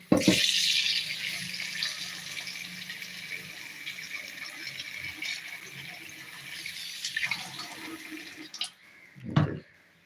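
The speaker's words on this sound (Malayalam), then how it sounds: "ഒന്ന് കഴുകി നമുക്കൊന്ന് വെള്ളത്തിലിട്ട് വയ്ക്കാം" Running water splashes in a sink while fish is rinsed, a steady gush that tapers off, ending with a brief clatter.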